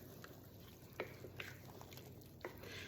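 Broccoli and carrots stirred in a pot for copycat broccoli cheddar soup, giving a few soft scraping and clinking spoon strokes over a low, quiet background.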